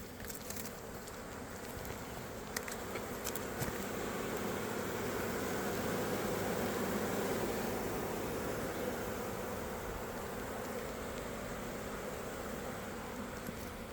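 A swarm of honey bees buzzes steadily and densely while being dumped from a package into a hive box with frames and an excluder, a continuous close hum with occasional light knocks.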